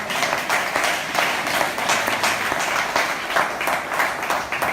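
A church congregation claps steadily and loudly in sustained applause that neither swells nor fades, with no talk over it.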